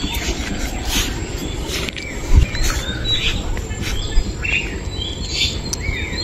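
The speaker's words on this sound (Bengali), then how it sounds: "ওই যে পাখি বসে গেছে," Birds chirping around a small jamun berry tree beside a pond, scattered short calls at moderate distance over a steady outdoor background, with a couple of brief knocks.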